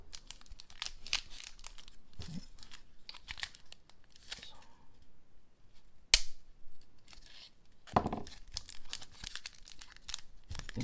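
A Prizm trading card pack is cut open with scissors and torn, giving soft crinkling foil, several sharp snips and rustles close up, with short quiet gaps between bursts.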